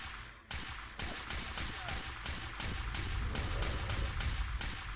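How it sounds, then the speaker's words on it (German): Rapid bursts of gunfire in Fallout 4, a steady barrage of sharp shots with game noise underneath and a voice talking over it. "Und die Schüsse von da drinne."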